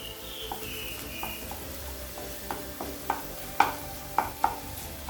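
Egg frying in a pan for roadside-style chicken fried rice, with vegetables pushed aside, gives a quiet steady sizzle broken by intermittent spatula scrapes and clinks as it is stirred. The clinks grow louder toward the end, with no talking.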